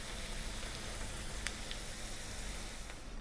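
Potatoes frying in hot oil for a crisp, golden finish give a steady, even sizzle with soft crackling throughout, close and alone with no voices.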